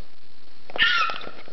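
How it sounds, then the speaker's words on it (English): A pet cat by a table gives one short, fairly close meow over soft room hiss, with no one talking during the call. "Look at the kitty cat."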